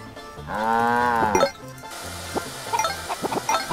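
A cow moos once in a long, drawn-out call in the farming video game Meine kleine Farm 4, loud and clear, followed by softer clinks and game sounds.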